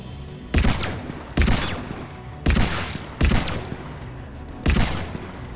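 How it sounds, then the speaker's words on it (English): Pistol shots in the video game Mass Effect 3, five loud, punchy reports spaced about a second apart, each trailing off with a short echo. "now this pistol does feel kind of satisfying to shoot"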